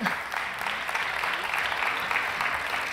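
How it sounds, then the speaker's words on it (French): An audience applauds a 26-year-old project founder at a French pitch event, a steady, dense wash of clapping from many hands that continues without a break. "Alors Alexandre, tu as 26 ans, ton projet, on peut l'applaudir, c'est vrai."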